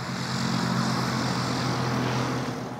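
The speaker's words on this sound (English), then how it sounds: "Charged up and ready to go, the UK's first ever fully electric training plane." A fully electric training plane, the UK's first, drones steadily and loudly close by with a harmonic propeller-motor hum and broadband wash throughout, no voices.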